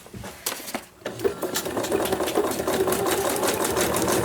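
Sewing machine stitching a zigzag seam while piecing crumb quilt blocks, starting with a few hesitant stitches then settling into a steady, close, continuous mechanical whir that builds in loudness.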